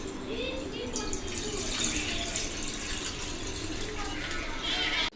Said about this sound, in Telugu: 1 గ్లాస్ మిల్క్ అయితే పోసుకుందామండి.